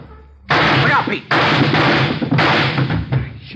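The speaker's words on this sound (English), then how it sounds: "Shot right through the door." Gunshot fired through a door in an old radio police drama, several loud sharp bursts close together, each followed by a rough noisy tail, with voices nearby.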